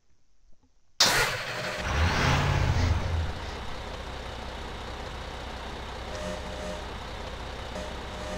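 A car in the Garry's Mod video game starts abruptly after near silence with a loud burst, then revs and pulls away into a steady, continuous driving drone that holds at moderate level.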